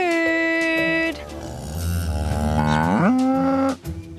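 Cows recorded for research on how cattle communicate, letting out long, loud, close moos with rising and falling pitch, one drawn-out call running into another.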